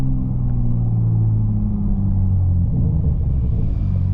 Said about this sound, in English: We're gonna let the car do its downshift here.